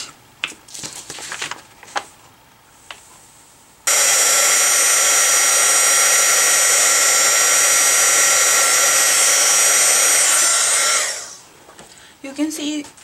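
An embossing heat tool blasts a loud, steady roaring hiss for about seven seconds while melting white Wow embossing powder, then fades out, with brief handling taps and clicks before and after.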